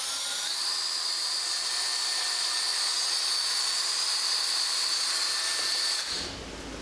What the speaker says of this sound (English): clean the rust that you see around here with a steel wool type attachment to a drill